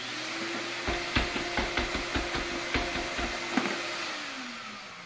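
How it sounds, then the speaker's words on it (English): A CamVac dust extractor motor whirs steadily while its filter is rattled, giving a quick series of knocking taps over the hum before the motor winds down. "Turn one motor on, give her a little rattle, and do the same thing here."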